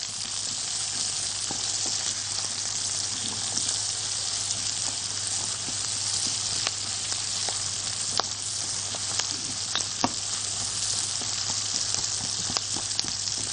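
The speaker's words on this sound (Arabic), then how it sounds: "اول ما الثوم كده يبتدي ياخد اللون احط البصل" Onions and garlic fry in a pan with a constant hissing sizzle and scattered crackling pops, heard alone for the whole stretch.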